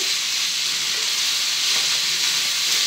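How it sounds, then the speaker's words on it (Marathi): Fenugreek leaves sizzling in hot oil, a steady bright steamy hiss with faint crackle, continuous and fairly loud, no talking. "आपण आता त्या तेलावर, त्या फोडणीवर मेथी टाकून घेऊ सर्व"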